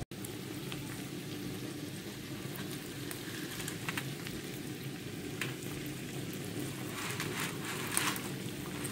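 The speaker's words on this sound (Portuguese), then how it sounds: "aqui a água já está fervendo, eu vou colocar a massa para cozinhar" A pot of water at a steady boil on the stove for pasta, giving a continuous bubbling, hissing wash with soft irregular pops, close and even throughout, no voices.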